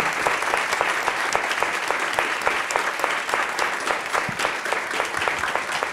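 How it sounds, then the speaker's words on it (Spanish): An audience at a Pixelatl 2022 panel on Spanish animation industry leaders claps steadily for the panelists, a dense, even wash of many hands that holds at full strength throughout without fading. "un aplauso a todos vosotros y a ellos por contribuir a esta charla"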